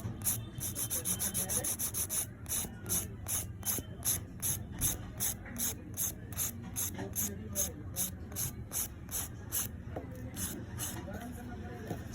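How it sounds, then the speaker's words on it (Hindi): Rhythmic rasping strokes of a hand nail file shaping the sides of an acrylic nail extension, steady back-and-forth scrapes close up, with a faint low background hum. "साइड में फाइलिंग के लिए आप फाइलर को कुछ इस तरीके से चलाएंगे"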